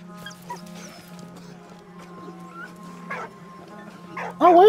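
A dog in Valiant Hearts: The Great War gives soft whimpers and short yips over a low steady hum, ending in a louder bark close by.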